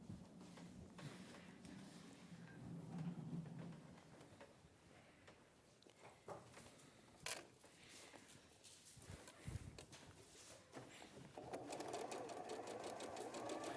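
A sewing machine stitches a Liberty fabric handbag mini quilt, its motor whirring in continuous runs with pauses, close and moderately loud, with faint handling noises between.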